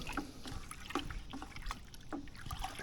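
A homemade natural weedkiller liquid is stirred in a container, making faint, soft swishes and light clinks that repeat in a loose rhythm.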